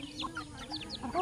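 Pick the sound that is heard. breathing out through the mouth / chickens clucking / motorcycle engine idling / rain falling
chickens clucking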